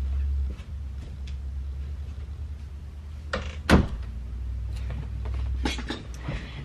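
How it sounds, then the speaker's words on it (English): A bathroom door swings shut with a single firm thud midway, set against a steady low hum and faint background rustling. "I'm gonna go ahead and close the bathroom door"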